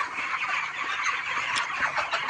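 Chickens on a poultry farm, a steady flock chatter of clucks and chirps, moderately close and continuous with no talk over it.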